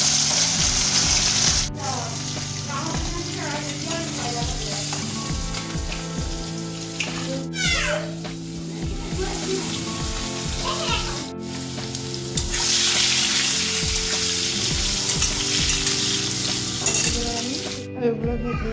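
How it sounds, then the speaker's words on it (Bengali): Shoal fish frying lightly in hot oil gives a continuous close sizzle and crackle with repeated spatula scrapes and clinks, plus a faint hum throughout and a few sharp knocks. "আমি হালকা হালকা করে ভেজে নেব।"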